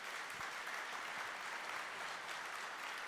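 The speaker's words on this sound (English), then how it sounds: "Big round of applause to Sarah, please." A conference crowd claps steadily after a talk, a dense continuous patter of applause from a medium distance, with no voices standing out.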